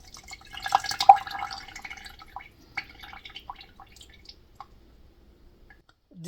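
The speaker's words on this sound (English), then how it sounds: "I'm cutting the sour orange. I'm squeezing it." Juice squeezed from a sour orange drips and trickles into a container, a cluster of soft wet splashes and squishes early on that thins out into a few scattered drops, quiet and close.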